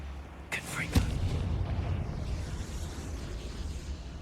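A Confringo spell blast in Hogwarts Legacy, two sharp cracking hits in quick succession followed by a deep rolling boom that lingers and fades over several seconds.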